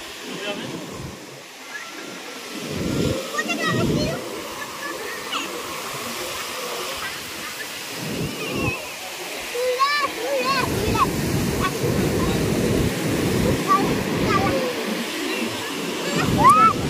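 Sea waves wash and surge on the beach at Puri, a continuous surf hiss with swelling breakers, while people talk nearby.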